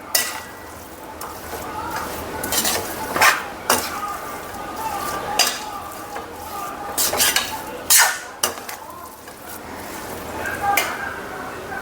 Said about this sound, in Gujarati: બધો જ મસાલો સારી રીતે આપણે મિક્સ કરી લઈશું